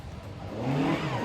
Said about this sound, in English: Julian Wright working the Datsun 1200 hard across the stages, taking the win on all 5 tests and the round